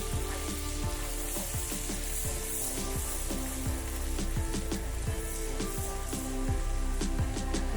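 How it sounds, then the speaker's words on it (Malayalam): Ginger and garlic frying in butter, a steady close sizzle with bubbling foam and occasional stirring scrapes, constant throughout with no voices. "ബട്ടറിലായതുകൊണ്ടാ ഇഞ്ചിയും വെളുത്തുള്ളി ഇട്ട് കഴിഞ്ഞപ്പോ പതഞ്ഞു പോവുകയാണ്"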